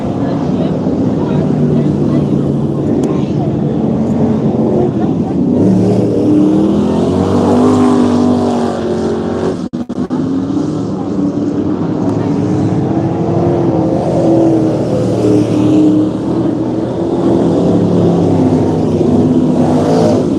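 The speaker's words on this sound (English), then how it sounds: "This is the last race for the Super Trucks for the season." Super Trucks race at Vado Speedway in the season's last event, their engines a continuous rumbling drone rising and falling with laps. Wind buffets the microphone and people talk over the noise throughout.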